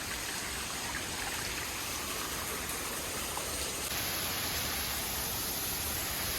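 A mountain stream on the trail up Adam's Peak rushes in a dense, steady wash of water, joined partway through by a thin, sustained high tone, with no voices.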